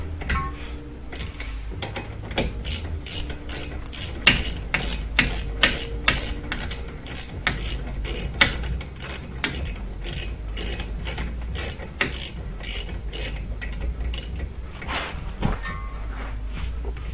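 Repeated ratchet clicks from tightening the brake caliper bolts on a bugeye Subaru WRX, steady rapid bursts of close, sharp ticking strokes with brief pauses, no talking.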